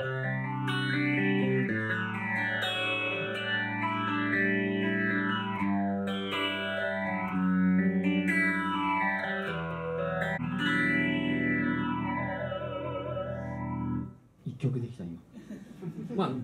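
Heavily processed electric guitar through a Zoom G1 Four multi-effects processor, with swirling, modulated effects, plays a repeating pattern for most of the clip, then cuts off into brief chatter.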